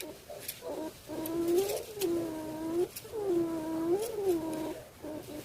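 A wavering electronic tone from a homemade zinc-and-scrap oscillator sliding up and down in pitch in a few swoops, warbly and fairly quiet, with faint clicks and hiss.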